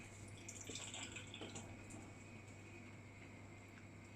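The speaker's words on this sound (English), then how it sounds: "So if I put a bit of fluid in there." Fluid is poured into a custom fuel tank filler, making a faint, soft trickle and splash that is busiest early on, then settles into a low, steady wash.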